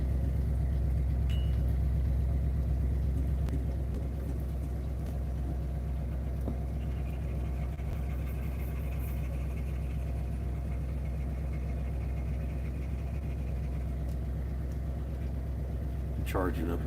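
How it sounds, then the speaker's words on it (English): RV engine idling with a small exhaust leak on the passenger side, a steady low rumble with a ticking, puffing edge running continuously close by while people talk over it. "It's got a little exhaust leak there on the passenger side."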